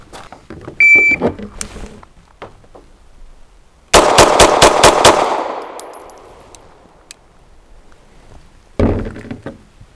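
Double stack 1911 pistol fired at a shooting range: a rapid string of about five sharp, loud gunshots with a reverberant tail, plus a few scattered earlier bangs and clanks and another burst near the end, with no talk.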